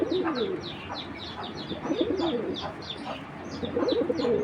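Several pairs of large-headed show pigeons of Army and Chila breeds coo nearby in repeated throaty rolling phrases, with light chirps and rustling between calls and no voices.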